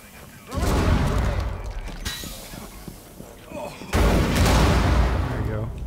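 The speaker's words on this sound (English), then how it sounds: "Got him with a grenade." A grenade detonates in the video game Rainbow Six Siege, producing two loud, booming blasts with crumbling debris, the first near the start and the second about three seconds later, with a player briefly talking between them.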